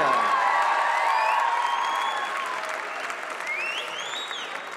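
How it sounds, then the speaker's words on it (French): An audience at a gathering applauds the communication team, with sustained clapping and scattered whoops and whistles that slowly fade. "On peut aussi les applaudir, ils ont fait un immense travail."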